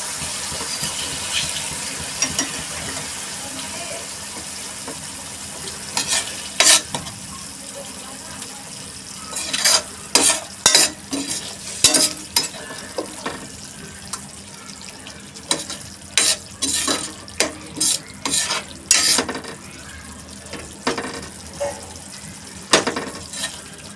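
Potatoes being stirred into a frying gravy for dum aloo, with a steady sizzle beneath a run of clustered scraping strokes of a spoon in the pan through the second half, close and fairly loud, no talking.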